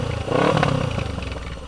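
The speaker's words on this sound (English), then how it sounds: "it's a Black Widow exhaust, 280mm stainless steel" A motorcycle fitted with a Black Widow 280mm stainless steel exhaust runs close by, its low throaty engine note swelling briefly and then settling into a steady rumble.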